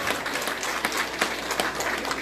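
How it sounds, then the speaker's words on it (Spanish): A crowd applauds steadily at a mass wedding ceremony held for a provincial anniversary, with dense, continuous clapping that stays fairly loud and even throughout with no clear speech. "Un aplauso fuerte, aplauso doble."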